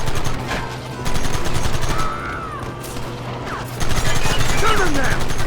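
Gunfire in Red Dead Redemption: loud, rapid shots crackling close in an intense exchange, mixed with ricochet whines and clatter, with voices shouting in the background.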